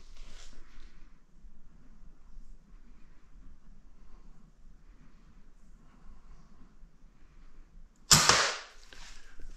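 A single Glock 19 BB pistol shot fired at a target, one sharp close crack near the end after a long quiet stretch of faint room noise.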